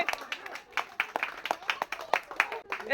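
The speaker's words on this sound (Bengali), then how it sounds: "দর্শক তার জন্য একটা জোরে হাততালি তিনি পেয়ে যাচ্ছেন" An audience claps loudly for a contestant in a water balloon popping game, a brisk burst of scattered hand claps from a modest crowd, with people talking underneath.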